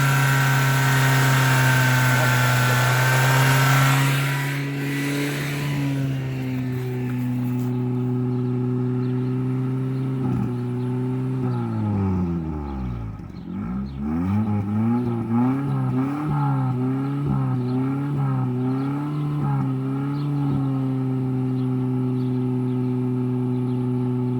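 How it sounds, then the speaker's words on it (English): Car engine treated with Sea Foam engine treatment runs steadily, then is revved up and down in a rising and falling sweep before settling back to a loud, continuous idle, heard up close without talk. "Run it up. Let your motor get nice and warm when you do this."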